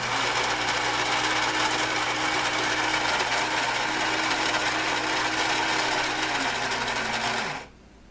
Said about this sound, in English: What you heard up there was the ceramic conical burr grinder up at the top, grinding the proper amount for a long coffee.